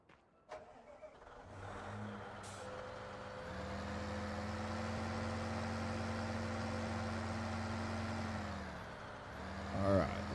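A farm truck in Farming Simulator 2015 on Xbox One starts and idles with a steady engine drone that swells slightly, a few clunks and clicks around it, with no talk.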